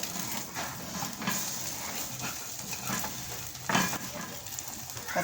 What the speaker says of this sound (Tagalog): Prito tayo ng itlog.